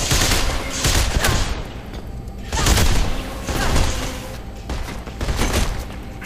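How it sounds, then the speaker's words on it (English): Rapid gunfire bursts in the first-person video game Mirror's Edge, with loud booming shots in several clustered volleys over a steady background rumble, with no talking. "There's one there, so I can shoot him now."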